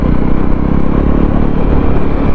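A Jawa 300 motorcycle engine on a test ride, droning loud and steady up close at a mid-range pace, with road and wind noise mixed in.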